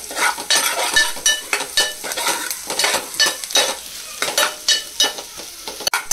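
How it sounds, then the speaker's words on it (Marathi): Onion, curry leaves and crushed garlic sauté in a pan, a close sizzle broken by rhythmic scraping stirs of a spoon against the metal, repeating in quick strokes with a clink near the end. "छानपैकी आपण मिक्स करून घेऊया कांदा आणि कढीपत्त्याला, लालसर होईपर्यंत परतून घेऊ।"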